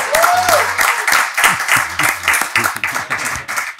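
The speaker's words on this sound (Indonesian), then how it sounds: "Tepuk tangan buat Man Kidal." An audience claps for Man Kidal, a Malaysian rock guitar legend, on a studio talk show: a steady wash of dense clapping close by, with a voice speaking over it.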